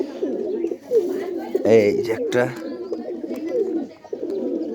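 A dove at home gives repeated soft, low cooing calls, close and fairly clear, while a person speaks briefly over part of it.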